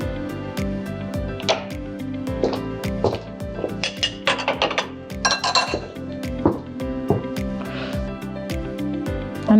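Chicken stuffing ingredients with mustard and barbecue sauce being stirred in a pan, a metal spoon clinking and scraping against the pan in irregular bursts over a steady low hum, with faint speech now and then.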